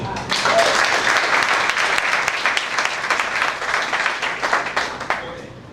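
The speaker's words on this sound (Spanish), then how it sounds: "Denle un fuerte aplauso." Church congregation giving a strong round of applause during a Sunday prayer service: dense, loud clapping that swells quickly and holds steady, then tapers off near the end.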